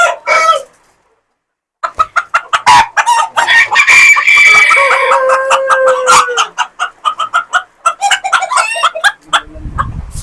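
Polish cap chickens on a farm cluck and crow loudly up close, with a long rooster crow rising over a rapid run of sharp clucks and squawks after a brief silence near the start.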